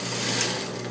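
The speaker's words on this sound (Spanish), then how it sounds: "cosemos con nuestro mismo pie, que es cargado a la derecha" A sewing machine stitches a cushion cover with a steady, close mechanical whir and fine rapid rattle, continuous for the whole short moment with no talking.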